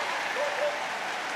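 Crowd applause in an arena at the Crufts Young Kennel Club agility final, a steady, moderately distant wash of clapping with no break.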